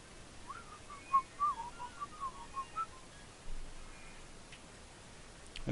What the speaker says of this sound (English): we're not that good at whistling